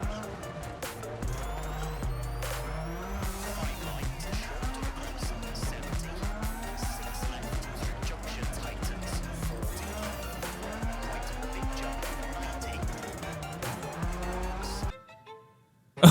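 A rally car's engine drones and revs continuously in a sim racing game, with rising and falling pitch as the gears shift and brief tire noise. It plays loud and steady, then cuts off abruptly near the end.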